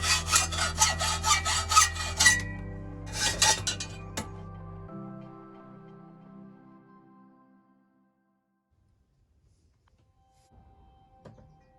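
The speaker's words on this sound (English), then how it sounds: "I'm going to cut these levers as much as I can" Hacksaw cutting the metal levers of a bike rear carrier, several quick rasping strokes in two bursts, then a metallic clink and a fading ringing tone before near silence.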